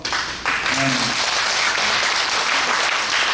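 Sustained applause from a congregation at a church general assembly president's inauguration service in Seoul, a brief voice at the start and then full, steady clapping.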